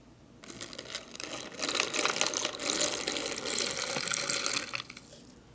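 Six ounces of cold water pour into an MRE drink pouch for cocoa, a close, steady splashing stream that starts abruptly, runs for about four seconds with slight swells, then cuts off.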